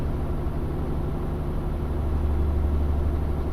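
A truck engine in the Euro Truck Simulator 2 driving game drones as a steady, continuous low rumble while the truck drives, with no voices over it.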